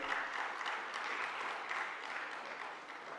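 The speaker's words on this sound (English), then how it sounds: "let's give a warm round of applause to our speaker" A conference audience gives a speaker a warm round of applause, steady soft clapping from a mid-sized crowd heard at some distance.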